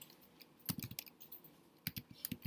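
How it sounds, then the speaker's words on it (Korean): Typing on a computer keyboard, close and fairly quiet, coming in two short bursts of quick clicking keystrokes separated by a near-silent pause. "내가 타이핑을 쳤어요. 한글로."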